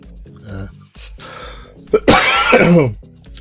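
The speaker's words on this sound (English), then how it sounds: "It makes me cough every time." A harsh burst of coughing and throat clearing, loud and close, following some quieter vocal noises, during a modded Minecraft 1.8 gameplay session.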